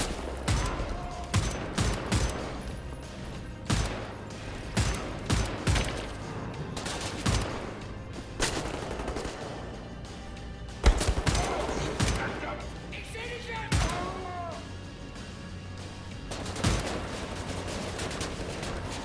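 Dual sniper rifles fired in a video game, a series of sharp, separated shots with irregular spacing over a busy game background, a voice talking at times between the shots.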